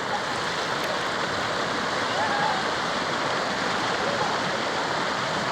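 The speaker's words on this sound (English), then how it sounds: "Here's our first river crossing." Steady rushing water of a river at a hiking crossing in the Narrows, a constant broadband wash with no breaks.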